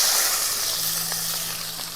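Chopped onion dropped into hot oil with cumin and dried red chillies, a steady close sizzling hiss that fades slightly over two seconds, with no talk.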